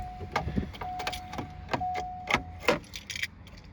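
Car keys jangling and clinking in several short metallic bursts, close and fairly quiet, while someone fumbles with the wrong key to start an old Subaru.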